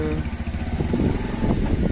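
A motorcycle engine drones steadily at close range while riding along a pond embankment, its low throbbing hum continuous with slight pulsing.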